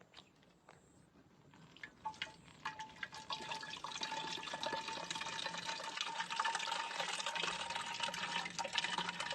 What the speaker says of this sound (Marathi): भांड भारीचे पाणी भराया.